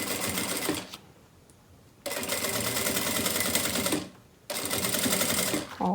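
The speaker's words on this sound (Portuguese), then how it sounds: "Vou colocar, então, agora aqui, ó, pique com pique e vou passar a costura" Sewing machine stitching plastic canvas for a beach bag, running in loud rapid bursts of about two seconds, separated by short quiet pauses.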